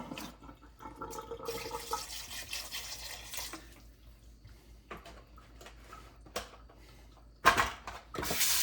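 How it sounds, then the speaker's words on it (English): Vinegar is poured over raw oxtail in a kitchen to clean it, with intermittent splashing and trickling bursts, brief pauses and a louder splash near the end. "Then I'm going to add a little bit of vinegar."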